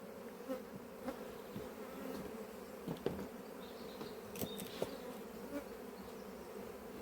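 Honey bees buzzing in a dense, steady drone around an apiary hive, close and continuous, with occasional louder passes as single bees fly near.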